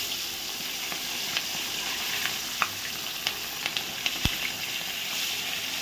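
Bata fish sizzling in hot oil in a pan, a steady broad frying hiss with scattered sharp pops and crackles, close and fairly loud, no voices.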